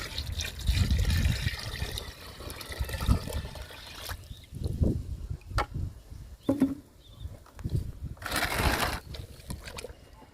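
Liquid fertilizer pours into a 20-litre bucket holding 15 litres of water, giving irregular splashing and trickling bursts with quieter gaps between them, fairly close.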